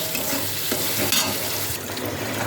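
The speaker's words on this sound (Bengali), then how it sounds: "এবার আমি এখানে খানিকটা ধনের গুঁড়ো আর খানিকটা জিরের গুঁড়ো দিয়ে মশলাটাকে ভালো করে কষিয়ে নেব।" A paste of ground coriander and cumin fries hard in a pan, a dense close sizzle with steady scraping strokes of a spoon stirring it, no voices.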